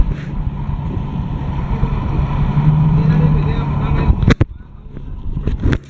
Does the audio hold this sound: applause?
no